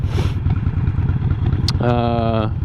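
A 2008 Harley-Davidson Nightster 1200 motorcycle engine rumbles loud and close with a steady low-pitched idle, then gives a brief rising rev near the end. A voice speaks over it.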